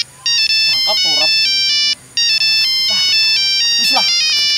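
A phone ringtone sounds for an incoming call, a loud repeating electronic melody in several bursts with short pauses, while people talk over it.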